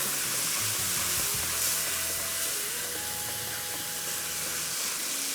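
Deep-fried chatkhara-style liver (kaleji) frying in a pan, giving a steady, dense sizzle that holds close and even throughout with faint clinks underneath and no talking.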